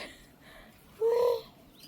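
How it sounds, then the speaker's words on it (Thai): A single short, nasal call, like a duck's quack, rises briefly out of quiet background noise about midway, then fades. "เป็ด"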